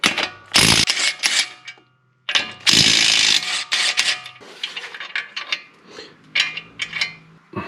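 A ratchet wrench clicks in rapid bursts, loud and close, removing nuts during a car transaxle replacement, with short pauses between spins and some metallic clatter toward the end.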